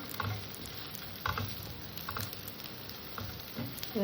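Fried potato, carrot, cashews, raisins and peanuts sautéing together in a pan for poha, a soft continuous sizzle with intermittent stirring taps and scrapes, close and without voices.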